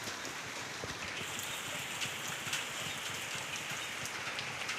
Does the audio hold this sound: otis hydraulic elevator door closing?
no